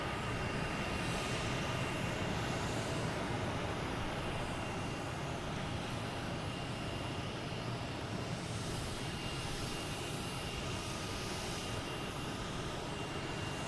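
A Lufthansa Airbus A380 on approach into Boston Logan from Munich, gear not yet down, gives a steady, broad jet roar that holds at an even level throughout.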